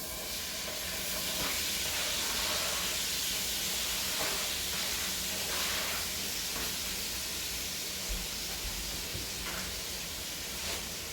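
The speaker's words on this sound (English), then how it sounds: "So I'm going to now fry the onion. We have some onion, garlic, and some tomatoes." Onion, garlic and tomatoes frying in a pan for a cookup rice, a steady close sizzle and hiss that holds throughout with faint crackles, no voices over it.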